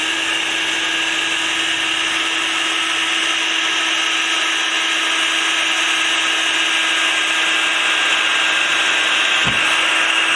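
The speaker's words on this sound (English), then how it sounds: "So you get a drill, a metal speed drill." A steady, high-pitched metal drill whine runs continuously and loudly from start to finish with no pauses, ending with a brief clunk, while drilling parts for a Sopwith Camel model wing build.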